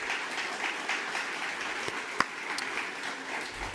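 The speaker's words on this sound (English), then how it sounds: "How about a big round of applause for all of our presenters tonight doing an amazing job." Applause from an audience at a university new-venture startup competition, a steady wash of clapping across the room for the evening's presenters, with a couple of sharper individual claps standing out midway.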